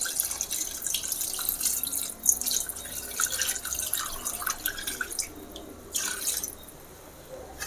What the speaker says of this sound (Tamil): இந்த கறியை வச்ச தண்ணியை நம்ம இதில் ஊற்றிக்கலாம்